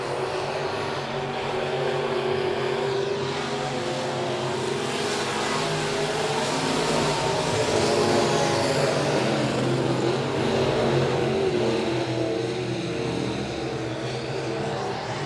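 Midwest modified race cars roaring around Monett Motor Speedway during a heat race, a steady loud engine drone with rising and falling revs as the pack passes, continuous throughout.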